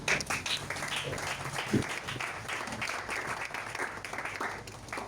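A church congregation applauding to acclaim the Lord during a sermon: sustained, dense clapping from a large crowd that fills the room evenly from start to finish.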